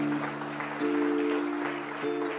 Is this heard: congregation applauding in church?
yes